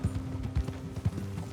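Horse hooves clip-clop at a walking pace in Red Dead Redemption 2, a few distinct, fairly close thuds over low ambient background.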